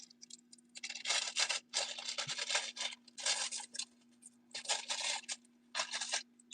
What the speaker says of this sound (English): Can I borrow those scissors for 5 seconds?